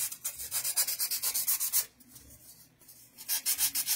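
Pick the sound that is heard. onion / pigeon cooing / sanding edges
sanding edges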